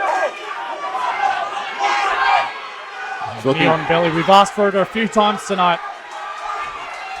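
A crowd at a wrestling event in the Mansfield Tavern in Brisbane fills the room with loud, steady roar and chatter while a commentator talks over it in quick bursts.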